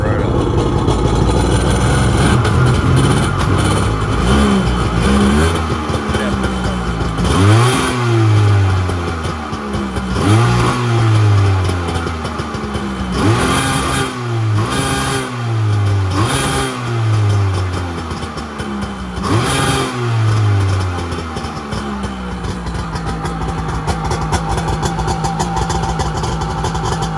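The engine of a Kawasaki ZXI 900 jet ski, revived after being stuck, starts up and idles loud and close, then revs again and again in repeated rising and falling bursts before settling back to idle.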